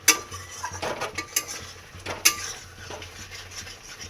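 A spoon stirs egg korma in a cooking pan, giving a string of sharp metallic scrapes and clinks at an irregular pace over a soft background hiss.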